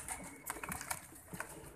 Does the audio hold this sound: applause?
no